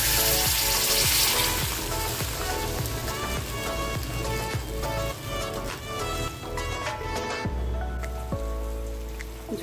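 Broth poured onto fried spice paste for Bengali fish curry, giving a loud, continuous hiss and crackle of sizzling that stays steady and close, with a harder burst at the start.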